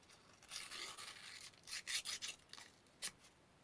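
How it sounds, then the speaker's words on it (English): Fine 400 grit sandpaper rubs underneath a reed tongue during restoration of a Hohner Arietta accordion, giving faint, close, papery scratching strokes in short bursts with pauses between. "I get the 400 grit and I just go underneath the reed tongue like that"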